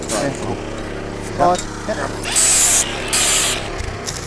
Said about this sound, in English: Ray's now cleaning up my probably less than Boilermaker engineer type welds